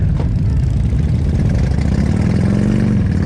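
A group of about 26 motorcycles idles together at a civic center before a ride, a dense steady rumble with engines blipping and beginning to roll out.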